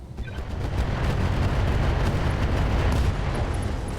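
Mech weapons fire from a RogueTech battle, a loud sustained roar of overlapping blasts and booms rolling continuously for several seconds with heavy low-end rumble.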